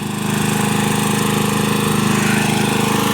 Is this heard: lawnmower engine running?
yes